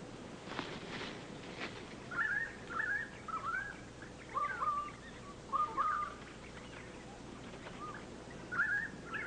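Crimson rosellas and currawongs call among eucalyptus trees in an alpine forest, a string of short clear calls repeated at irregular intervals over a soft outdoor hush, moderately distant and without voices.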